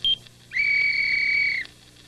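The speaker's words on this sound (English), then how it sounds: "we'll blow the whistle on him" A short chirp, then a single sustained shrill whistle blast held for about a second before cutting off sharply, clear and close.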